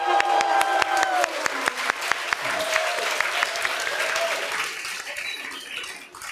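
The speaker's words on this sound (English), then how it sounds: "Let's please have you all give yourselves a huge round of applause." An audience at a kirtan festival in Rishikesh bursts into applause: many close, sharp claps at first that loosen into a softer crowd clatter, then fade over about six seconds.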